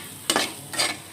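Banana flower with prawns being sautéed with turmeric, cumin and chili powder, two short stirring scrapes over a soft background sizzle, close and without talk.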